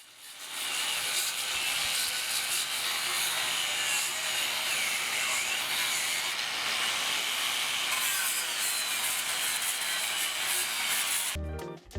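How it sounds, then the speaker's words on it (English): A wire brush scrubs flash rust off a steel shipping container before painting, giving a continuous, loud, hissing scrape that holds steady for about eleven seconds and then stops abruptly; no voices. "So we just use a wire brush to clean it off before we paint."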